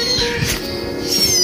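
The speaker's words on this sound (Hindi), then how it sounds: "हमारी मोटी बिल्ली है" A plump pet cat gives two loud, close meows, one early and one near the end, with no one speaking.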